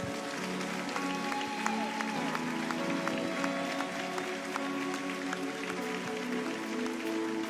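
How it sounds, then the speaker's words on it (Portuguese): A church congregation claps for Jesus in a steady, dense wash of applause, with tonal sounds and music-like lines running beneath it throughout. "Você pode me ajudar a aplaudir Jesus aqui?"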